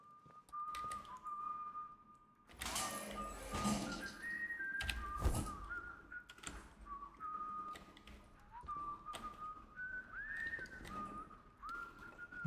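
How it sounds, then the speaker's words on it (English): An outlaw in the game Atomfall whistles a wavering tune off and on, fairly faint, mixed with scattered bumps, clatter and footstep-like thuds. "I hear an outlaw whistling."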